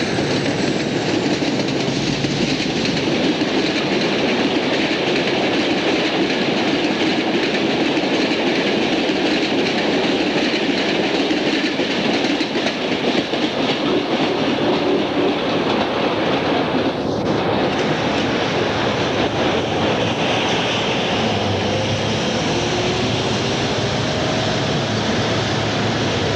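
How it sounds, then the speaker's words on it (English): A Superliner Starlight passenger train heads northbound across a trestle where Gaviota Creek meets the Pacific, giving a loud, steady rolling rumble with faint clickety-clack of wheels that holds for the whole passage. "we see the new Superliner Starlight northbound for Santa Barbara"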